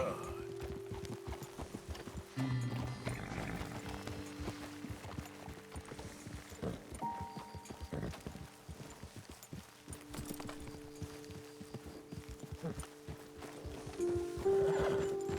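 Horse hooves from Red Dead Redemption 2 clop in a fast, steady rhythm for the whole stretch, over a faint tonal musical background.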